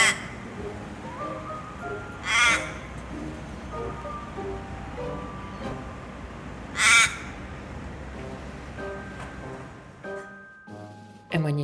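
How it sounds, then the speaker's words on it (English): Australian magpies call in an urban setting, with warbling, fluting notes and a few louder harsh bursts, moderately close over a background of outdoor ambience. "And when you hear the magpies,"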